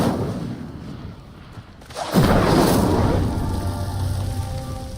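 A fiery Incendio spell bursts out in Hogwarts Legacy combat, a sudden loud whooshing blast that roars and crackles for a few seconds after a quieter stretch.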